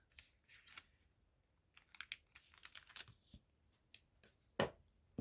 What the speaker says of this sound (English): Trim off the tape at this end.